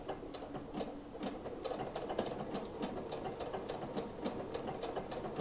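A domestic sewing machine stitches the skirt seams of a wedding dress, running steadily with a fast, even mechanical ticking rhythm throughout at moderate, close level.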